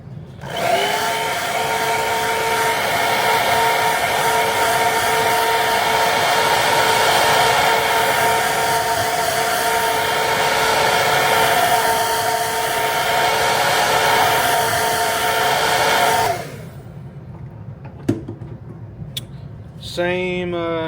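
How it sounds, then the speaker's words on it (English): A hair dryer blows steadily and loudly for about sixteen seconds while drying paint on a fishing lure, then cuts off, leaving quieter room sounds and a few small handling knocks. "let me hit this with a hair dryer"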